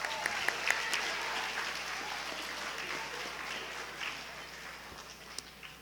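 Applause from a large audience at the 2017 North Carolina National History Day awards ceremony: a steady, dense wash of clapping that holds for several seconds and slowly fades, with a few sharper claps standing out.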